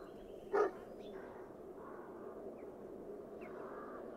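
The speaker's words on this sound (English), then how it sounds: "Here, you dog." A single short dog bark in a video game, one brief burst near the start over a steady low ambient background, followed by faint game sounds.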